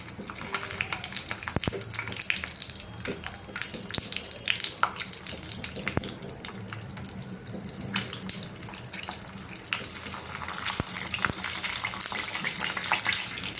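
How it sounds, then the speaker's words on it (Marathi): Stuffed capsicums shallow frying in hot oil in a kadhai, a continuous bubbling sizzle with scattered crackles and occasional clicks, rising slightly louder toward the end. "आता आपण यांना थोडं शॅलो फ्राय करूया"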